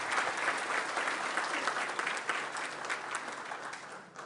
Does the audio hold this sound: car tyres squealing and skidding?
no